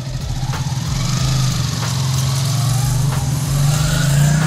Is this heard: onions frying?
no